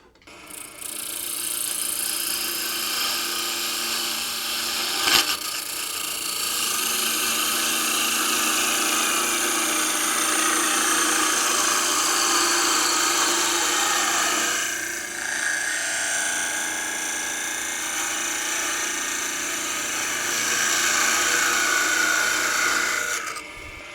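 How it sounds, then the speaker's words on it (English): Parting tool cutting into a spinning woodturned Christmas tree box on a lathe, a loud continuous rasping scrape with a brief knock early on, easing off briefly midway before resuming. "We're going to go most of the way in with 1/8 inch parting tool"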